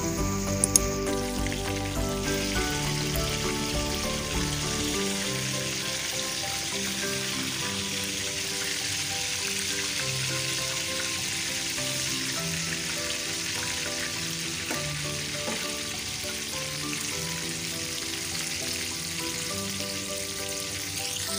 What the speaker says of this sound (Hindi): अब ये फ्राई हो चुके हैं, हम इसको प्लेट में निकालेंगे।